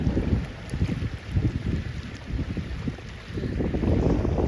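Strong wind at a cold lakeside fishing spot buffets the microphone in heavy, uneven low rumbles and gusts, loud and continuous with no voices.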